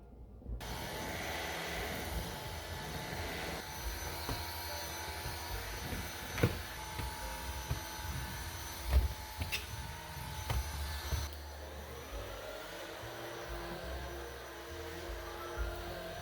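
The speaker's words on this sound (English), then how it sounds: "let's get the vacuuming done" A vacuum cleaner runs steadily through a house clean, a continuous whirring drone lasting throughout with a few louder bumps and knocks partway through.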